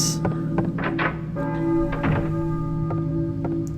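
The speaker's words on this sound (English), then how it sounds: "That church bell is incredibly loud." A low, sustained church bell tone in the video game Silent Hill hums beneath a series of muffled thunks and taps, steady and fairly loud with no voices.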